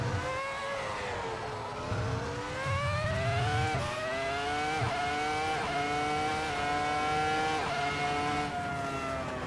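A Formula 1 car runs flat out at Spa, its engine screaming at high revs as a close onboard whine that climbs and dips with gear changes, steady and loud with no voices.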